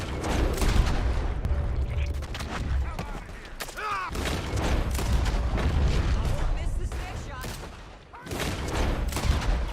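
Gunshots in Red Dead Redemption 2 boom and crack in a dense, loud exchange of fire with short lulls between volleys, close and echoing over a rumbling background.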